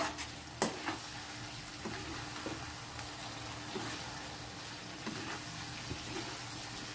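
Chicken majestic frying in a pan, with a steady low sizzle and a few sharp scrapes and clinks from stirring, moderately close and fairly quiet.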